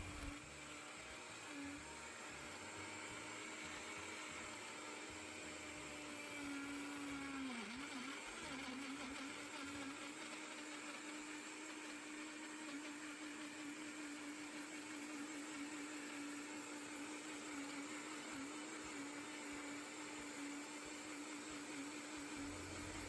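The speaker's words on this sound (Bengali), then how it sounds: "এই তো ব্লেন্ডারটা অন করে দিয়েছি, ব্লেন্ড করা হয়ে গেছে" Electric blender running steadily as it blends a milkshake with biscuits, a continuous whirring motor hum with a brief pitch dip partway through, close and alone without talk.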